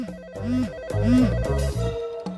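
A melodic phone ringtone plays a short repeating tune of electronic tones, fairly close and clear, with no voices over it.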